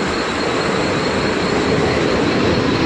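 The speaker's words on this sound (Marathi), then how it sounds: "आपली ट्रेन आता आलेली आहे" A train pulls into a station platform, its steady, loud rail rumble and wheel noise filling the air without pause and with no voices heard.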